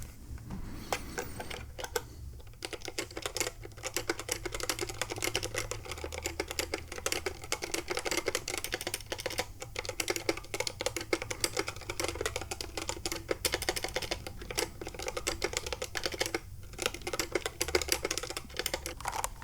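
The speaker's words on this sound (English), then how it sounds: "Let's do a little bit of typing." Rapid keystrokes clatter on a computer keyboard, a close, continuous stream of clicks with brief pauses, over a low background hum.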